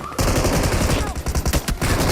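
A burst of Uzi gunfire in a battle royale video game: rapid, loud, continuous automatic shots with sharp repeated cracks over a dense game background.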